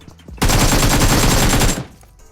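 Automatic gunfire in the PUBG video game, a loud rapid burst of shots lasting over a second, close and dense, with nothing else over it.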